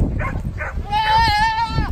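A goat at a goat-roping event lets out a loud, wavering bleat close by, following a couple of brief rustling sounds.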